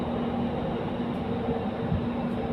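Inside a Doha Metro train in Qatar, a steady low rumble and hum of the moving carriage runs throughout at even loudness, with no voices.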